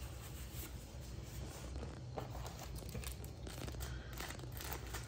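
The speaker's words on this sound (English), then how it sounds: "Plastic bag with screws." A plastic bag of screws is handled up close, giving continuous crinkling and rustling with scattered small crunches, steady and fairly loud throughout with no talk.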